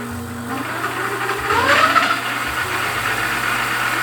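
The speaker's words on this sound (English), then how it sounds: "We'll lift it on the side a little bit and give it some throttle." An electric motor on a repaired e-bike whines up under throttle with the bike lifted on its side, a rising tone peaking near the middle and then holding steady over a low hum.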